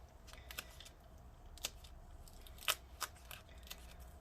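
Adhesive tape being peeled off a 15-inch Retina MacBook Pro (Mid 2015, A1398) keyboard cable, heard as quiet sticky crackles and a few sharp ticks, the loudest near the end, over a soft background hiss.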